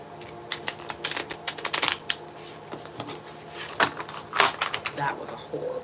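Tarot cards are riffled and shuffled in quick uneven bursts of papery flicks and slaps, close by, with soft talking underneath.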